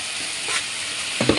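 Green chili paste with turmeric fries in a pan, an even close sizzle with a couple of stirring knocks near the end, no voices.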